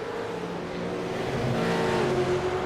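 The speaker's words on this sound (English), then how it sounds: "You can hear him short shift into third, looking after those rear tyres." A V8 race car in a racing video game revs and holds a rising engine drone as it short shifts into third, a steady, fairly close, loud buzz with no voices.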